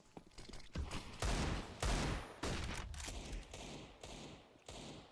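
AK-47 rifles fire in a Counter-Strike match on the Vertigo map: sharp bursts and single shots crack repeatedly over several seconds, mixed with thumps, fairly close and punchy against a busy in-game background.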